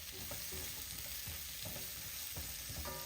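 Vegetables stir-frying in hot oil for a sweet and sour chicken dish, a steady close sizzle with repeated stirring scrapes and clatters throughout, no voices.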